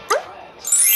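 A cartoon dog gives a single short, bright yip-like bark in a kids' learning cartoon, close and clear, followed by a jingly tone.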